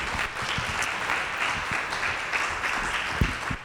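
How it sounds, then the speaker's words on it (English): An audience at a community donors forum claps steadily, a dense, even wash of applause from many people that holds for a few seconds without a break. "Can we give a round of applause to David and Suzanne?"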